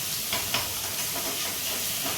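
Spices with Kashmiri chilli powder fry in hot oil in a pan for a Bengali fish curry, giving a steady broadband hiss and sizzle throughout with no talking.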